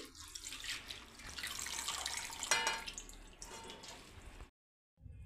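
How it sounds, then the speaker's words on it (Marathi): Water splashes and trickles steadily as green amaranth leaves are swished and rinsed in a basin, ending in a short silence before a faint sound returns. "अजून एक वेळा मी स्वच्छ पाण्याने धुवून घेत आहे भाजी"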